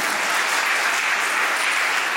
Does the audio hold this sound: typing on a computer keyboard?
no